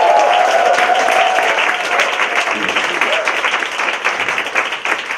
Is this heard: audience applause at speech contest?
yes